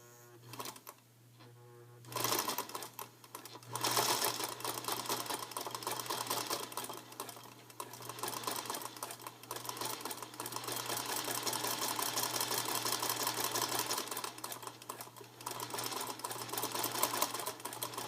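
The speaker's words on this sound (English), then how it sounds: "And then I just start to sew it. I like to do a nice, slow, even stitch to start." A sewing machine fitted with a SingerCraft fagoter attachment stitches a figure-eight fagoting seam, starting after a short pause and then running with a steady, close, whirring mechanical chatter that lasts to the end.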